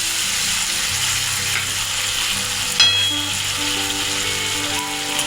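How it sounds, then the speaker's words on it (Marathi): A bangda mackerel sizzles steadily while frying in a pan, with a brief clatter as the fish is flipped partway through. "आपण आता पलटी मारून घेतो आता मच्छीला।"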